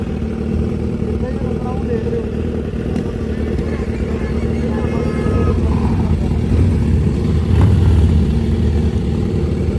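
A Harley-Davidson Fat Boy motorcycle engine idles and rumbles with a deep, steady low throb that swells slightly louder toward the end, heard close with people talking over it.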